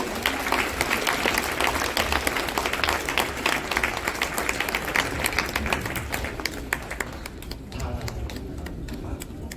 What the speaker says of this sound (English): Can we give them a round of applause as they come to the stage?